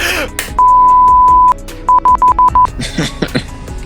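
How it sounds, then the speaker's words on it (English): Piercing electronic beeps sound in the background: one long sustained tone followed by a quick series of five short pulses, set amid faint room noise and mumbled voices. "more furiously annoying beeping in the background"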